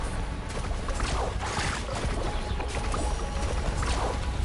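Water splashes and rushes continuously while a character surfs and carves waves in the video game Genshin Impact, with a dense, steady, loud wash broken by repeated bursts of spray.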